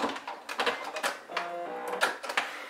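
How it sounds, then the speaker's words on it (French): A sewing machine stitches a short stretch of seam and then a backstitch on a fabric makeup pouch, in brief stop-start bursts of needle clatter, close and fairly quiet. "je continue à coudre sur environ 1 cm et je fais mon point d'arrêt"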